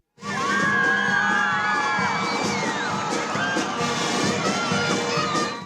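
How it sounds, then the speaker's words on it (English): A stadium crowd cheers, whoops and shouts as police bands march onto the field at a Pacific police band event in Papua New Guinea, a loud, sustained roar with high-pitched children's shouts over it. "The crowd cheered as each band took the field."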